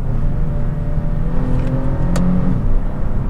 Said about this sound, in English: when you downshift it, it does do rev matching downshifts.